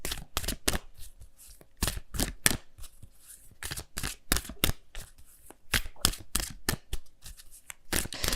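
Someone shuffles a deck of Angel of Abundance oracle cards, making steady rapid riffling and slapping bursts that repeat close up with no pauses, and no one speaks.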